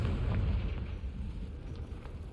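A Confringo fire spell bursts in Hogwarts Legacy, a rumbling, fiery explosion that stays loud and roars on for a couple of seconds, with no voices over it.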